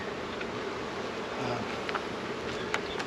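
Honey bees hum steadily around an opened hive box during beekeeping work, a continuous dense buzz with a few brief louder passes close by.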